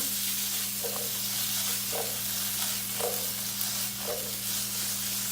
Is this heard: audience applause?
no